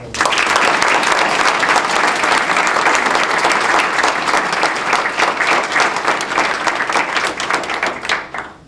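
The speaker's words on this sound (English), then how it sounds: "Do we have another round of applause?" An audience at a fishing derby gala in 2009 applauds. The dense, loud applause is sustained for about eight seconds and thins slightly before stopping. No one speaks over it.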